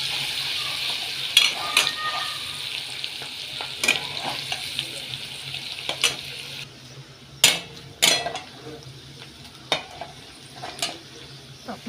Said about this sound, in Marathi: कांदा पण टाकलेला त्यात थोडंसं ब्राऊन द्यायचं आपल्याला.